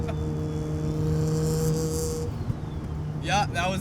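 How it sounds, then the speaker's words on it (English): Exhaust of a 650 HP turbocharged rotary Mazda RX-7 running 17 pounds of boost, a steady engine drone that swells, then fades. Voices talk near the end. "that was the exhaust"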